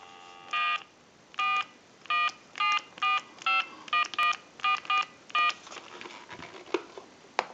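A run of about ten touch-tone DTMF dialing tones, each a short steady beep in an even rhythm, placed on a Mickey Mouse 210 Trimline telephone to call a time-and-temperature line, clear and close with faint clicks after.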